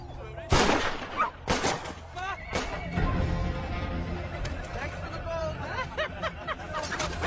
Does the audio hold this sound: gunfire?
yes